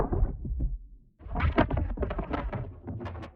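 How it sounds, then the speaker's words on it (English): Layered sound-effect elements made from real paper recordings with distorted, flangey processing, for a magic cast and impact: rough thumping bursts that drop out briefly, then return as a dense run of crackling transients. "those are all from the real ADT paper distorted flangey processing that I did earlier on."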